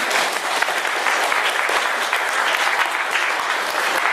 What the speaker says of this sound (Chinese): 我们给这些有趣的掌声鼓励